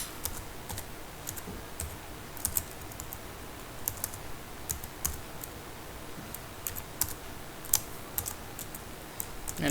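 Keys clatter on a computer keyboard as HTML code is typed, a close run of irregular clicks and bursts against a quiet background with no speech.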